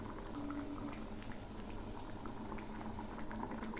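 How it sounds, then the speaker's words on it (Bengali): Spiced gravy with singhi fish simmers in a pot, giving a continuous, faint, even bubbling with no distinct splash, heard alone and close. "এখন আমি মাছগুলো দিয়ে দিচ্ছি।"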